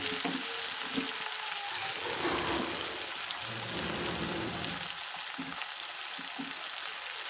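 Turmeric and ground spices tipped into hot oil for a Bengali village-style fish-head mung dal, giving a steady close frying sizzle with soft crackles throughout, no voices.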